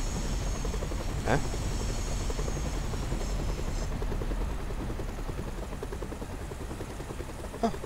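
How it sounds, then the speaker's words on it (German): Steady helicopter rotor and engine drone from the video game Train Simulator 2015, flying over farmland beside a train, continuous and fairly loud throughout with a faint voice briefly underneath. "ein Heli."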